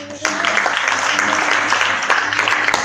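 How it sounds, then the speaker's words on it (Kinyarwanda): A church congregation breaking into applause, a dense continuous wash of clapping from many hands filling the room, with a voice briefly audible at the start. "amashyi."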